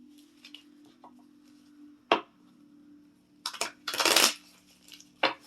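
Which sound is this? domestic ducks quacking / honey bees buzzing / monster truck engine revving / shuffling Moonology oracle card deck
shuffling Moonology oracle card deck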